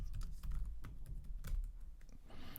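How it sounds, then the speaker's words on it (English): Someone types a command on a computer keyboard, giving a quick, steady run of close, soft key clicks with brief pauses and no talking. "And then we'll type in that single command."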